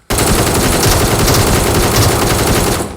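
Rapid automatic gunfire from a gun in the PUBG video game, a dense continuous burst that is loud and close and lasts almost three seconds without a break.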